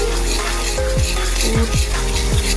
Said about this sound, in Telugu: బాగా డీప్ ఫ్రై చేయాలి కానీ దగ్గరే ఉండాలి